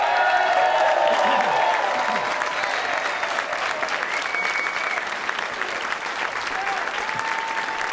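Sustained, dense applause from a comedy club audience at Gotham Comedy welcoming actor Danny Aiello, loud at first with some cheering, then tapering slightly while staying steady.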